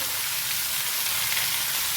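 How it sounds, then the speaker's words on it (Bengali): Bitter gourd pieces seasoned with turmeric and salt fry in a pan, a dense, even sizzling hiss that holds steady for a couple of seconds with no voices. "উচ্ছেগুলি একটু ভাজা ভাজা হয়ে যাচ্ছে"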